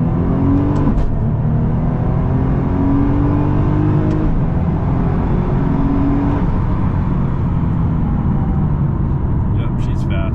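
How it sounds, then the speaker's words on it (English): A stock-turbo Nissan GT-R running on E85 fuel accelerates hard, its engine and turbo rising in rapid pitch sweeps with gear changes, loud and close from inside the car, with a voice over it. "E85 on a stock turbo GTR,"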